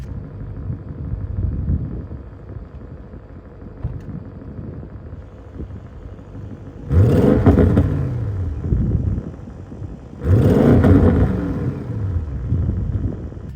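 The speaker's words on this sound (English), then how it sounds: "there is a soft limiter when you're sitting in park and revving" A 2024 Audi RS6 Performance with a twin-turbo 4-liter V8 sits in park and is revved twice against the soft limiter. Each rev is a loud, rising roar that holds briefly and then drops back to a deep rumbling idle.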